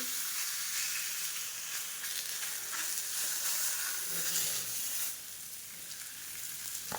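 Oil sizzles steadily and quietly on a flat griddle as a fenugreek thalipeeth flatbread fries, a constant crackling hiss with occasional soft scrapes, easing slightly toward the end.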